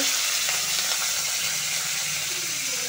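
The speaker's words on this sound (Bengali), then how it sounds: "গাজর বিনস এগুলো দিয়ে ভেজে নিচ্ছি সবগুলোই লবণ দিচ্ছি" Carrots and beans sizzle steadily in hot oil in a wok, a continuous bright frying hiss with faint stirring scrapes.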